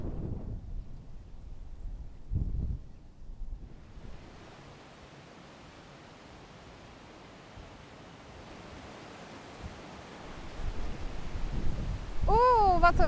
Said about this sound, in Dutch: Oeh, wat een wind!